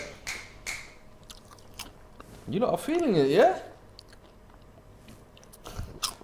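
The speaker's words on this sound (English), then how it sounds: "can you chew any louder?" Someone chews food loudly right beside the microphone during a live football watch-along stream, with wet, crunchy bites that swell briefly. People talk throughout.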